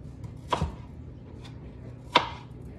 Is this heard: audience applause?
no